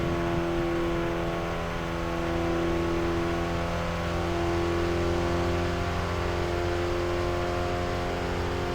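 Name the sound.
race car engine during lap in RevHead video game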